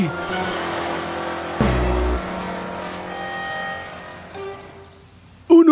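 A cartoon car speeds away in a children's animated show, its engine revving with a brief low whoosh in the middle and a sharp burst of sound at the very end, set against background music with no talk.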